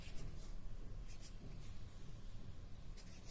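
Pen or pencil writing on paper, a soft steady scratching with faint repeated strokes, close and quiet, with no talking.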